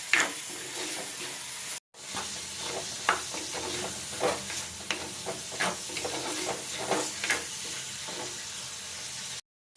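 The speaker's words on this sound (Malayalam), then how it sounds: "പിന്നെ കറിവേപ്പില ഇത്രയും കൂട്ടിയിട്ട് ഒന്നും കൂടെ നല്ലപോലെ മിക്സ് ചെയ്ത് നല്ലപോലെ ഒന്ന് ഇളക്കിയെടുക്കുക." Jackfruit seed curry with coconut and curry leaves is stirred in a hot pan, giving a close, hissing sizzle with uneven scraping strokes throughout. Two very short drops to silence break it up, and nobody speaks.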